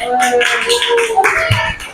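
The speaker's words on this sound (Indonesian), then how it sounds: "benar semua untuk kelompok 3, tepuk tangan." Eighth-grade pupils in a classroom give a short burst of applause, brief scattered clapping mixed with chatter and shuffling.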